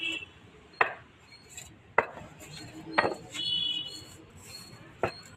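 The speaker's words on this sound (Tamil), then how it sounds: "மீன் நல்லா பொடிசா கட் பண்ணுங்க" Fish is chopped finely on a board in a kitchen, with a handful of sharp, separate knife strikes spaced about a second apart, set against a quiet room and soft clinks.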